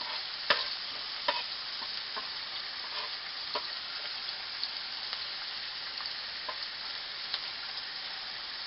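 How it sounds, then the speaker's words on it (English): Onions and peppers sizzle and hiss steadily on a hot grill, a close, continuous crackle with scattered small pops and faint stirring clicks, no voices. "I just let the onions and peppers grill"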